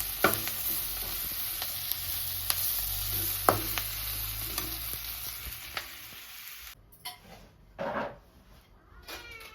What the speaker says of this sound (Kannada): ಫ್ರೈ ಮಾಡ್ಕೊತಾ ಇದ್ದೀನಿ